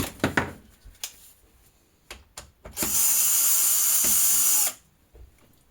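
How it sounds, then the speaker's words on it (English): A few clicks and knocks, then a power drill whirs loudly and steadily for about two seconds before stopping, close up, removing screws from a salvaged LED TV. "So grab your drill,"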